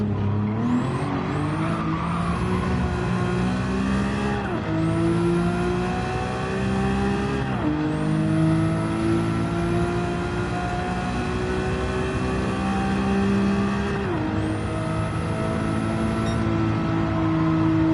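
Race car engine in a sim racing video game, steady loud high revs with repeated upshifts and brief lifts around corners, continuous and close throughout with no talk.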